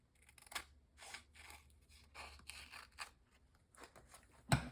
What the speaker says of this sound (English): I'm just going to cut all the way across this strip